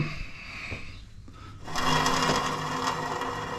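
A 1966 Honda CA160 Benly motorcycle engine runs with a buzzy, rapid mechanical clatter that swells louder partway through and stays close and steady.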